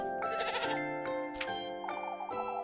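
A goat in the video game Little Goody Two Shoes bleats repeatedly, with four or five quavering calls in quick succession, clear and close, with no voices.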